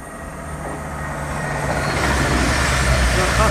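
A Class 66 freight locomotive hauling empty ballast wagons approaches through Market Harborough station, a steady low rumble and rail noise building in loudness as it draws near.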